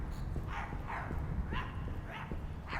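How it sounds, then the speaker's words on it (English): A puppy in the video game My Friendly Neighborhood gives a short run of about five yips and barks, moderately near, over a dense, rumbling game background. "There's a puppy."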